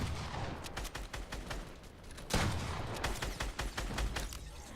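Rapid bursts of gunfire from a Fortnite match, a dense run of sharp shots with a louder crack midway, then continuing rhythmic firing, close and prominent with no talk over it.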